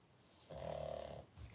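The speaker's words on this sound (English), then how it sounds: "I don't mind the snoring because it's a pug." A pug dog snoring, one drawn-out rasping snore close by, followed by the start of another breath.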